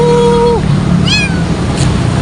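An abandoned cat on a sidewalk gives a few loud, close meows, one drawn out and then shorter cries, with little else around it.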